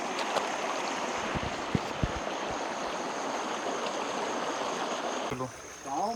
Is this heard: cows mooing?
no